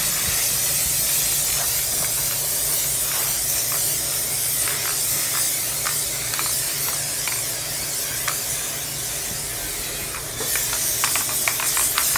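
3M spray adhesive hisses steadily from an aerosol can as fabric is coated for a Reflectix A-frame window cover, a continuous broadband spray lasting most of the span with a brief pause and fresh burst near the end.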